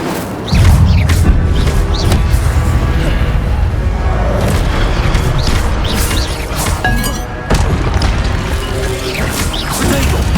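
In Hogwarts Legacy, the Incendio fire spell is cast amid combat, with booming whooshes and crashing impacts that repeat through a dense, loud stretch of game sound effects.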